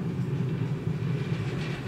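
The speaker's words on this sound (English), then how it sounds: "There's no shock absorbers on this train." A train rolls on rails through the Alps, heard from inside a carriage as a steady, loud low rumble with a faint rattle and no clear rhythm, and no voices.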